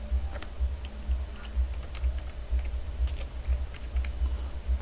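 Computer keyboard with an English layout being typed on in quick, light clicks over a steady low hum, close and fairly faint, with no talk.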